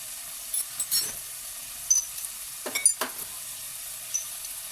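Butter and dried mint sizzle softly in a pan, a faint steady hiss broken by a few brief clinks and stirring scrapes, with no voices.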